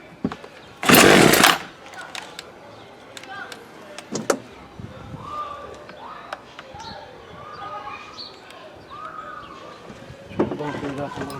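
A Poulan Wood Shark chainsaw, just fitted with a new primer bulb, bursts into a loud, rough roar for about half a second, then falls quiet amid handling clatter and talk, and sputters again briefly near the end.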